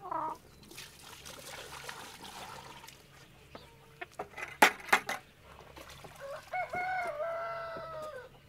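Water trickling and splashing as it is poured for a farm animal on a winter farm, quiet and close, with chickens clucking and a rooster crowing nearby.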